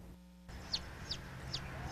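Backyard chickens give repeated short calls, about four evenly spaced chirpy clucks, over a low steady background hum.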